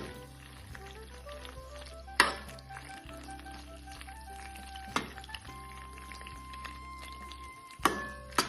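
Macaroni pasta sautéed in a pan for red pasta, giving a faint, steady sizzle with occasional sharp clanks of a utensil against the pan over soft background music.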